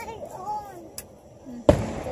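July 4th fireworks in a backyard: one sharp, loud bang stands out near the end after a softer pop, while children's voices chatter throughout.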